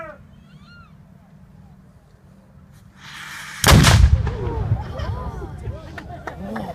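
A historic cannon at Fort McHenry fires once, a single loud, close boom that bursts out of a quiet outdoor scene and rumbles away over several seconds, with faint chirps in the background.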